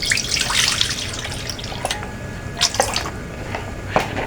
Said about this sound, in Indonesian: Kita tuang yang warna alpukat.